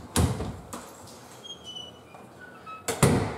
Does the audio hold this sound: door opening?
yes